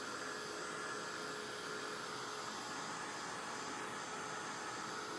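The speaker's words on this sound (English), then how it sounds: "Now I'm going to grab my little heat tool. I'm going to dry this" A small craft heat tool dries chalk paste on a Christmas wreath piece, giving a steady, close, whooshing blower hum with a faint whine that runs unbroken throughout, with no talking.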